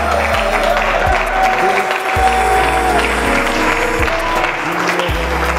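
A church congregation bursts into sustained applause, a dense and loud clapping wash that fills the whole stretch, with a low rhythmic pulse running beneath it.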